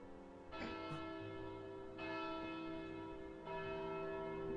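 A bell in the video game Kingdom Hearts Birth by Sleep tolls three times at steady intervals, each strike sharp and then ringing on with a long sustained hum over a low background drone, no speech.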